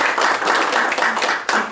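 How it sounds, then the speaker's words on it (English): An audience at a reception gives a round of applause, many hands clapping in a dense, loud, continuous burst. "let's go ahead and have a round of applause for our Innocentia."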